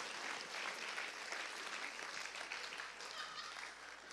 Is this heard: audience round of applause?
yes